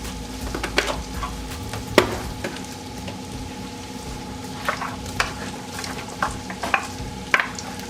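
Leftover onion being stirred into simmering keto broccoli cheddar soup in a pot, with soft bubbling and a low sizzle under scattered spoon scrapes and clinks against the pan.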